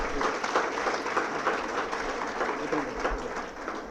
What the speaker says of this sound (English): Ladies and gentlemen, our new CEO requires a much bigger round of applause,